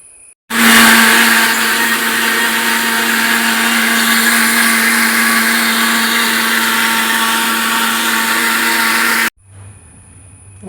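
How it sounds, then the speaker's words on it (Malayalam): A new electric mixer grinder starts abruptly and runs at a loud, steady high-pitched whine for about nine seconds, then cuts off sharply into quiet. "പുതിയ മിക്സിയൊക്കെ ആകുമ്പോൾ പെട്ടെന്ന് നല്ല അരിഞ്ഞിട്ടുണ്ട്"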